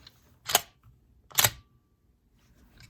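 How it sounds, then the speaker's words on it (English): The bolt of a SLIK 650 vault lock adaptor is thrust out and locks, giving two sharp, close mechanical clicks about a second apart against near silence. "If I thrust it out, that bolt is fully locked."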